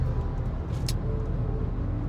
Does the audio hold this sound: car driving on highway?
yes